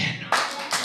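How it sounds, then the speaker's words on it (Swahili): At a church celebration, guests clap their hands in a couple of brief, sharp bursts close by, following a quieter stretch where a voice is heard. "na nyinyi pigeni makofi peke yenu"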